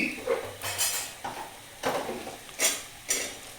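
A spoon scrapes and clatters in a pan while okra, grated coconut and turmeric are mixed, about six distinct scraping strokes in an uneven rhythm, close and fairly quiet.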